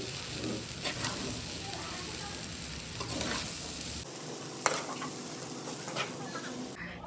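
Chowmein being stirred and fried in a pan with tomato sauce: steady close sizzling broken by scraping, clattering stirs, continuous throughout with a brief sharp knock near the end.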